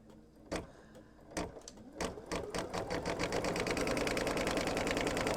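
An embroidery machine stitching the tack-down line on an in-the-hoop pumpkin bag: a few slow, spaced needle thumps that speed up into a rapid, steady mechanical stitching rhythm close by.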